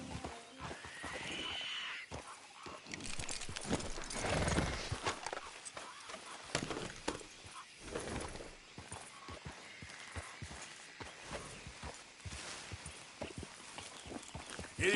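In Red Dead Redemption 2, a horse neighs and whinnies while its hooves clip-clop steadily on the ground, both clear and close, with quieter game ambience between the calls.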